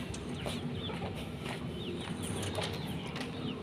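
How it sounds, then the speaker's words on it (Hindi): Chicks and a rooster cluck and peep continuously in a busy poultry pen, the clucking fairly close over a dense, steady background of bird chatter and rustling. "ये देख सकते हैं माशाल्लाह जी, ये हैं जी चिक्स।"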